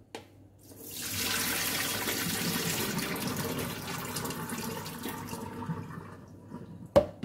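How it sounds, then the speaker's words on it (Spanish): Tap water runs over lentils in a colander as the husks are rinsed away, a steady close splashing rush that swells after a quiet start, holds for about five seconds, then fades before a sharp clink. "hay es que cambiarle bastante el agua para que el agua se lleve las cascaritas que van flotando"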